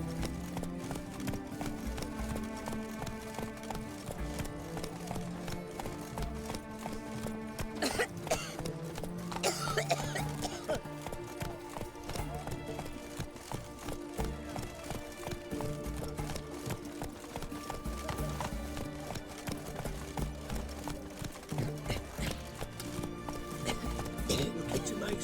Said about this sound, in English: I have run over a lot of people with this horse.